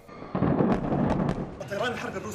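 Explosions from bombing in Syria, a loud rumbling blast with a sustained roaring tail and further crackling bursts.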